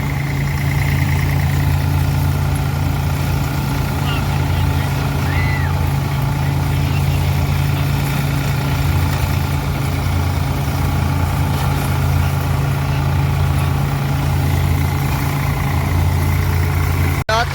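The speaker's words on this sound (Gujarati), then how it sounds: "ટ્રેક્ટર લઈને આવી ગયા" A heavy diesel tractor engine idles steadily and loudly up close, a constant low rumble throughout with faint voices in the background.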